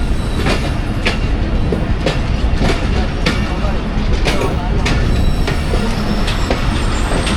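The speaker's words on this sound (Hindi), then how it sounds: "अलीपुर चट्ठा रेलवे स्टेशन पे अप्रोच बना रही है 47 अप रहमान बाबा एक्सप्रेस" The 47 Up Rehman Baba Express approaching Alipur Chatha station: loud, close rolling rumble with a regular clickety-clack of wheels over rail joints and occasional squeals, continuous throughout without speech.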